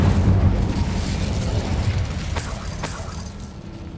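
Incendio fire spell cast in Hogwarts Legacy, a loud rumbling burst of flame that roars continuously and slowly fades, with a couple of sharp crackles near the end.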